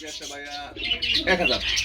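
Gribas pigeons at a pigeon farm coo and call in overlapping bursts, close and fairly loud, with several birds layered together throughout.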